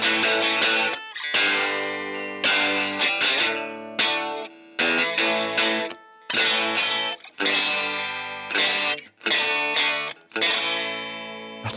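Ibanez 2640 Artist doubleneck electric guitar with both single-coil pickups running through a 1981 phaser and light overdrive, strummed in bursts of swirling, sweeping chords separated by brief silences, played alone.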